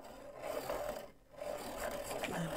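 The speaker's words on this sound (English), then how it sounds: "I'm gonna sharpen that" A light umber colored pencil is sharpened in short, faint grinding scrapes with a brief pause in the middle, alone and close.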